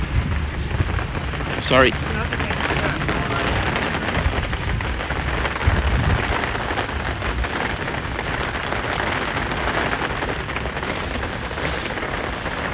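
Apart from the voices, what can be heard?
Florida thunderstorm with heavy rain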